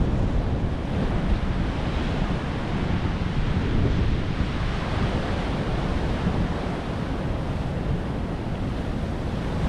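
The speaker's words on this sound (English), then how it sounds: "Some of those rogue waves that were coming in there were pretty damn big." Large sea waves roll onto the shore at Beacon Point, Newbiggin-by-the-Sea, a continuous loud surf roar with steady wind buffeting the microphone throughout.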